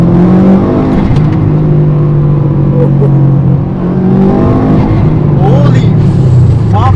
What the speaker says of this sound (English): let's go for a drive in the WRX